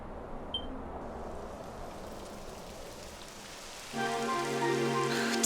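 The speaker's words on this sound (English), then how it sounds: "It would have to go and start raining" Soft, steady rain in Dragon Quest XI hisses quietly throughout, and a brighter tonal layer joins it near the end.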